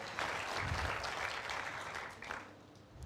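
A church congregation claps during a sermon, applause led by the pastor; a steady round of clapping for about three seconds, heard at a modest distance.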